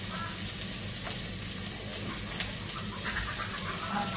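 Shrimp cooks with pointed gourd and potato for a curry, giving a steady, close sizzle and crackle of frying in a pan, with faint stirring and a light background hum.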